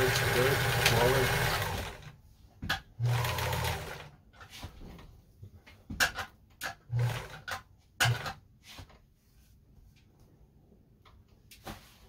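Kenmore 158.14000 sewing machine stitching in alternating bursts of forward and reverse, short whirring runs separated by pauses, close and moderately quiet, starting under a brief spell of talk.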